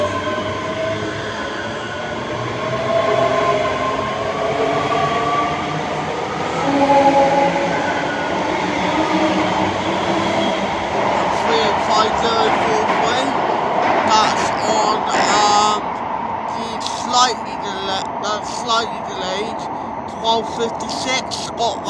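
A passenger train rumbles through Edinburgh Haymarket station on the Glasgow Central to Edinburgh Waverley service, a steady, loud rolling roar of wheels on rails with squeals and clatter building toward the end.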